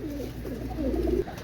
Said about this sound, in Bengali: এই এক জোড়া ওমান কবুতর মাশাআল্লাহ